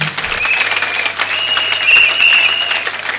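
A church congregation applauding and cheering, dense steady clapping with raised voices, loud and close for a few seconds.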